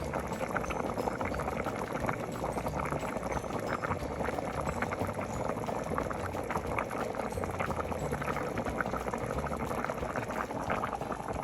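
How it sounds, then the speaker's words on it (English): Steady, vigorous bubbling of water boiling in a pot for chicken rice porridge, a continuous dense rumble and crackle throughout with no talking. "I still got it boiling good."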